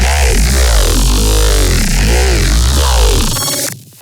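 Layered dubstep growl synth bass with effects, a loud, dense and continuously wobbling, formant-sweeping tone that shifts in waves for several seconds and then cuts off abruptly, with no voices.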